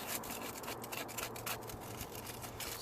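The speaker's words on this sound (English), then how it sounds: "So now get some sandpaper, just give it a good clean terminals." Sandpaper rubs back and forth across car battery terminals in quick, scratchy strokes, close up and steady, with no talk.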